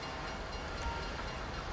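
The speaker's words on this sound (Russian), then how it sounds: "Там поезд едет, я так понял, да?" A train rolling past in the video game GTA 5, a continuous broad rumbling roar that holds steady and fairly loud throughout, with no voices over it.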